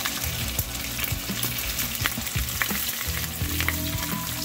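Limp bacon frying in a pan for a keto asparagus meal, a loud continuous sizzle and crackle close by, with bubbling oil and occasional clinks, no voices.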